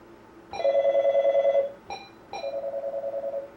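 A telephone rings nearby in clear electronic trills: one long ring, a short clipped burst, then a second long ring, with no talking.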